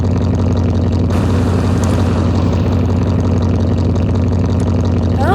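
Rebuilt Ferrari 458 engine running rough, a loud continuous low-pitched drone with uneven rumbling and no clear clean rev, close to the microphone.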